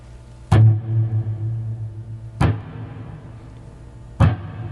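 Electric guitar sounds three widely spaced, sharply accented notes at a slow tempo, each a hard pick attack ringing out and fading before the next, loud and close with no voices.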